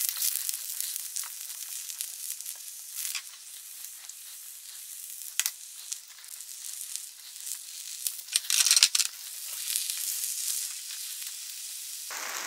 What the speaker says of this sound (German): Und jetzt einfach mal ein paar Minuten anbraten, gelegentlich wenden